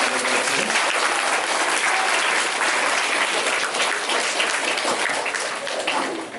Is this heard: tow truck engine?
no